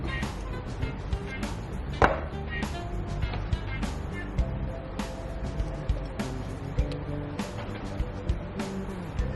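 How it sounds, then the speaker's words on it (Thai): A pestle pounds tomatoes in a large mortar for som tam papaya salad with crab and fermented fish sauce, making steady, repeated thuds in a fast rhythm, close and loud, continuing throughout. "ตำมะเขือเทศก่อน"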